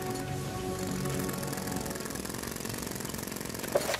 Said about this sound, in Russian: Работает отбойным молотком,